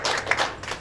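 A church congregation at a prayer seminar bursts into brief, brisk applause: a short, dense patter of many hands clapping at once.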